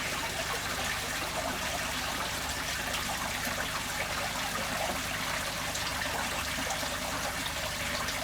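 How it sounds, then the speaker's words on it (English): Water pours steadily from a trickle filter at the back of a home aquarium into the fish tank, making a continuous splashing trickle with no pauses and no talk. "It'll start raining in there in a minute, but it's coming out the trickle filter at the back"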